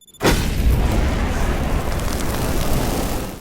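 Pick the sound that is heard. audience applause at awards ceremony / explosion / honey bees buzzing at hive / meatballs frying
explosion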